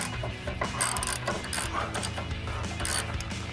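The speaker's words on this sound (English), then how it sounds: "Make sure you have the ratchet on tighten." A ratchet clicks rapidly in close, uneven bursts while tightening a bolt on a Silverado 1500 front leveling kit, with metallic clatter between strokes.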